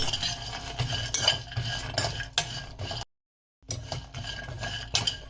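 Cashews and coconut roasted over a slow flame while a spoon stirs and scrapes the pan in repeated clinks and scrapes, broken by a short silent gap.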